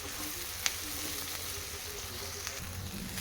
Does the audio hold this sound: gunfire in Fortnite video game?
no